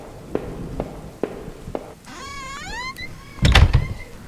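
Old school door creaking open in the horror adventure game Home, a few soft footstep-like knocks followed by a rising, wavering squeal of hinges and a louder thud near the end, with no talking.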